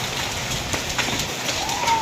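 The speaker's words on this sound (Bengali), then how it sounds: "কি বৃষ্টি" Steady rain falls outdoors as a dense, even hiss of drops on surfaces, moderately quiet, with a brief faint tone near the end.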